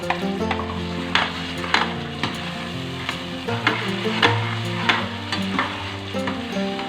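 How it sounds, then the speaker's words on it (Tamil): Mint paste sautéed in a pan for pudina rice, a strong close sizzle with frequent spoon scrapes and taps against the pan at an uneven rhythm, nobody speaking. "இந்த புதினா பேஸ்ட்டையும் போட்டு வதக்கிடுவோம்."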